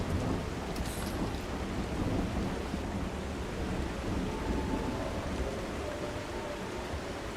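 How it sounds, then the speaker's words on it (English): Steady heavy rain pours throughout, with low rumbling thunder rolling underneath, in the video game The Last Caretaker; a dense, continuous storm with no voices. "If it'll stop raining."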